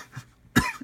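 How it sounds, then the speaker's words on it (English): A single sharp cough bursts out close to the microphone, preceded by faint breathy sounds and followed by a short quiet throat noise, with no other sound around it. "sorry again for the cough"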